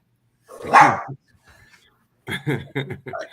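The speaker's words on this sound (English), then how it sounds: "I got a dog that's wanting to be let out." A dog barks indoors, wanting to be let out, a loud single bark followed by a quick run of sharper barks a moment later, with no talk over them.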